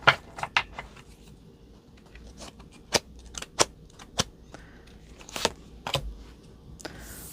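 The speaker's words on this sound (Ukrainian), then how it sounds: "Давайте три карти витягнемо." Crisp, sharp card snaps and flicks at irregular intervals against a quiet background, close by, as tarot cards are shuffled and pulled from a deck.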